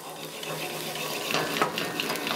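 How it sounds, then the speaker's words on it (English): Steak sautéing in grapeseed oil in a pan, with a steady, fairly quiet sizzle and a few soft stirring or utensil scrapes partway through. "So those are sauteing away."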